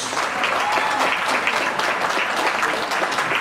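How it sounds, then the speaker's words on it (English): An indoor audience at a Kwanzaa celebration applauds event volunteers, a dense, steady round of clapping from a filled room, loud and close with no talk over it. "I hope you could applaud them."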